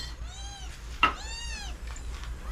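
Cats meow close by just before feeding: a few drawn-out, rising-and-falling meows with a short sharp yowl between them, over quiet room hiss.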